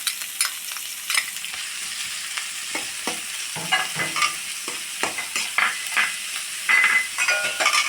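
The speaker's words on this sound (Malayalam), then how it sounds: "നമ്മൾ ആ ചീഞ്ചട്ടിയിലത്തെ ആ വെളിച്ചെണ്ണയിൽ തന്നെ സവാള ഇടാം." Onions fry in coconut oil in a clay pot, with crackling sizzle and repeated stirring scrapes close by and no talking.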